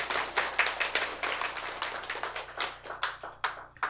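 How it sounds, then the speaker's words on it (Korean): Audience applause welcoming a family onto a stage, a modest crowd clapping steadily and fairly close for several seconds without any talk. "박수로 맞이해 주시기 바랍니다."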